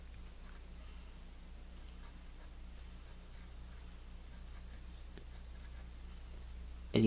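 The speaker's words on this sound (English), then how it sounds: "when drawing Shenron, you must draw his mouth here." Pen scratching across paper while drawing the dragon Shenron, a faint continuous scratchy rustle under low background hum, with a sudden louder sound at the very end.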